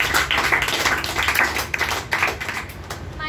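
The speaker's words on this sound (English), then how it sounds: "Clap for her, please." An audience at a presentation competition claps for a speaker. The claps are dense, scattered and fairly loud, running through the whole moment, with faint voices mixed in.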